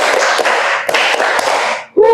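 A class of children claps together in a counting game, a thick continuous wash of many hands with sharper individual slaps, ending abruptly as a voice begins.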